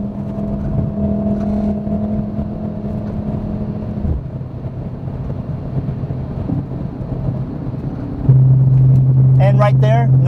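Volkswagen race car accelerating hard on a track during a self-driving race-trainer run, a loud steady engine drone that changes pitch with shifts around four and eight seconds, and a voice briefly heard at the end.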